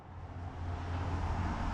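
A car passes nearby, its low broadband roar swelling steadily and staying loud to the end.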